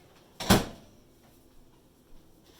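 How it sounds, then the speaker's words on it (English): A single solid thud of a microwave door shutting, close and fairly loud, followed by quiet room tone and a couple of faint knocks. "Don't forget to close the door."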